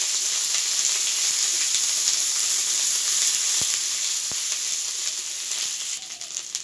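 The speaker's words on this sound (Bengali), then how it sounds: "মশলাটাকে হালকা ভেজে নিই" Spice pastes of turmeric, ginger, cumin and chili sizzle steadily in a pan for a jackfruit and paneer curry, a close, continuous frying hiss with a couple of faint clicks of a utensil.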